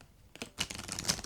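Cards from an oracle deck riffle and slide in a quick, soft papery shuffle, a faint patter at first that builds into a denser rustle of flicking card edges, close to the ear with no voices.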